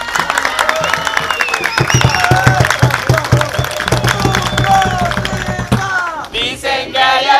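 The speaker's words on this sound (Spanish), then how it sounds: "el aplauso del público a los compañeros de cajón" An audience claps for the players of a Peruvian cajón workshop in Valparaíso, a close, busy patter of hands with voices talking over it that thins out near the end.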